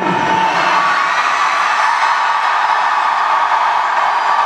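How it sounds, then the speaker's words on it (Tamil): A large crowd roars and cheers without pause at a stage event with actor Vijay Sethupathi, a dense, loud, steady wall of shouting and whooping with no single voice standing out. "ஒரு பக்கம் ரொம்ப கரகோஷமாக இருக்கு"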